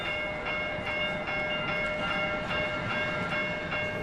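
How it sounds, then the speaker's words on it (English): A train rolls past nearby beside a stadium in Seattle, with steady, dense rumble and rail noise holding level throughout and a faint regular clatter, no voices. "once this train passes"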